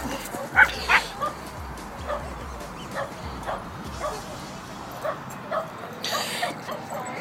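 A puppy gives short yips and whimpers in scattered bursts, some sharper barks near the start, with quiet background noise and occasional voices nearby.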